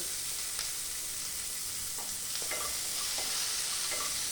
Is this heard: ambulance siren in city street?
no